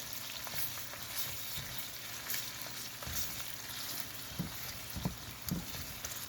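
Cabbage and carrots sizzle and fry steadily in a pan, a continuous close crackle with occasional stirring clatters and no voices.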